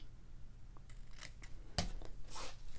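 Scissors snip a small paper bow tail for a craft project, giving a few light, close cuts and one sharp crisp snip, all faint and quiet.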